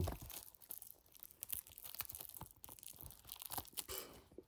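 Plastic wrap being torn and crinkled off a Terminator 4K Ultra HD Blu-ray case, a close run of ripping and crackling bursts with no talk.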